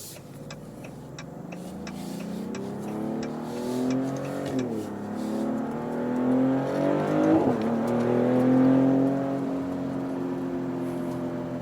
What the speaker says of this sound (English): Listen to that exhaust note, man.